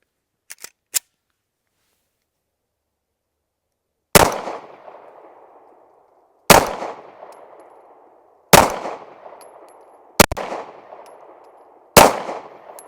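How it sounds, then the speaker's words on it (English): A Caracal Enhanced F pistol fires Remington law-enforcement training ammunition at an outdoor range. Five sharp, loud shots come at uneven intervals of about two seconds, each with a short ringing tail, and a few faint clicks come before them. "We're gonna see how it shoots out of the Caracal here."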